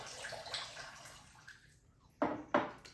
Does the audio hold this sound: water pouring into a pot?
yes